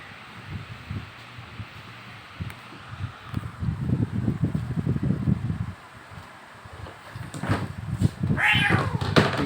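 Cat meowing outdoors in a faint, breezy setting, a couple of soft mews rising late in the clip over low rustling and wind.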